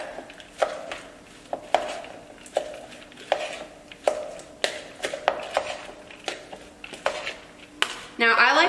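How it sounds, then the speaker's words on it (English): A metal whisk stirs coleslaw in a bowl with rhythmic clinks and taps against the sides, about a dozen sharp strikes at a steady pace, fairly close and distinct, with a brief faster scrape at the end. "Just gonna stir it up."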